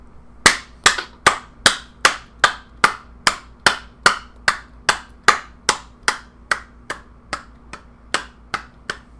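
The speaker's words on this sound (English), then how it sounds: "Let's clap it out." Sharp, evenly spaced claps ring out one at a time, about twenty in a row at a slow steady pace, crisp and close with quiet gaps between them.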